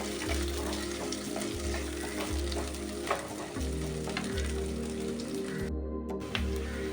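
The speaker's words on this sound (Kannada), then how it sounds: "ಈರುಳ್ಳಿ ಚೆನ್ನಾಗಿ ಫ್ರೈ ಆಗೋದು ಬೇಡ, ಅದರ ಬಣ್ಣ ಚೇಂಜ್ ಆದರೆ ಸಾಕು" Chopped onion fries in a pan for a fish curry, a steady broad sizzle running close and continuous, with repeated low rhythmic pulses from stirring or a hum beneath it and no voices.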